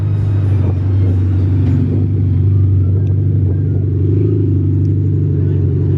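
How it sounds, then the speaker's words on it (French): A Mercedes E-Class rumbles loudly nearby, a deep, steady exhaust drone that holds through the whole stretch with slight swells, alone without talk. "Écoutez le bruit qu'elle fait cette classe E."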